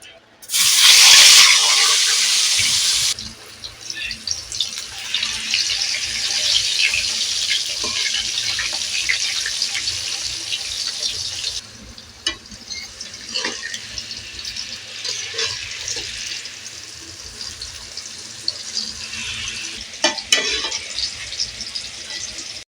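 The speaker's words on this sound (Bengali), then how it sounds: "তো কুমড়ো ভাজা হয়ে গেছে আমি তুলে নেব কুমড়ো" Pumpkin pieces crackle and sizzle as they fry in hot oil in a home kitchen, a dense continuous hiss that swells loud at first then settles, broken by occasional clinks and stirring scrapes from a utensil against the pan.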